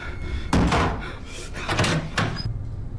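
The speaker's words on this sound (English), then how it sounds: "A knocking sound can be heard coming from his closet." Sharp knocks and thuds come from inside a closet, a few loud irregular raps against a wooden door, close by, with faint speech in the background.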